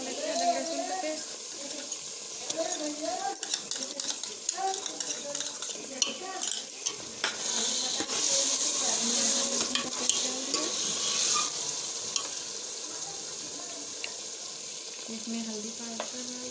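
Minced meat keema sizzling in a pan as ginger garlic paste is stirred in, a steady bright frying hiss with scraping spoon strokes throughout, while a person talks over it.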